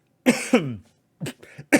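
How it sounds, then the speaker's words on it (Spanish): A person with a lingering cough from influenza A coughs several times in quick, sharp bursts, close and fairly loud, with short pauses between them. "me viene aquí la tos, la reminiscencia de la gripe A"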